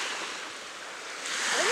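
Atlantic Ocean surf at Melmerby Beach washes in as a broad, steady hiss of breaking waves with wind rumbling against the microphone, swelling slightly toward the end.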